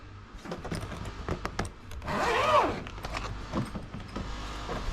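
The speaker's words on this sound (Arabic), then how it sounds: "السوستة." A suitcase zipper, on an American Tourister travel bag, is pulled open in one smooth run lasting about a second, close and moderately loud, amid handling rustles and knocks.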